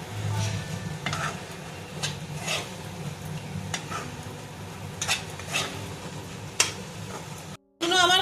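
Spinach and radish greens with cumin powder being stirred in a pan over low heat, with soft scraping and light sizzling that continue steadily, plus occasional utensil clinks.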